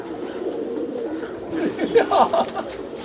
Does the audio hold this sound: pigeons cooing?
yes